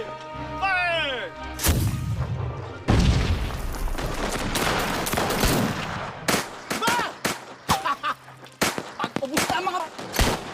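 Animated battle burst: a heavy volley of gunfire and booming blasts erupts, then continues as scattered loud shots and crashes, with shouting voices mixed in throughout.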